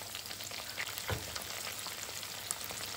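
Chicken thighs fry in a pan with a steady, dense sizzle that holds at an even level throughout, with a brief louder crackle near the middle and no voices.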